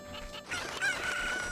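A chicken in The Legend of Zelda: Ocarina of Time lets out a single clear crow with a held, bright note, close and loud with no talk over it.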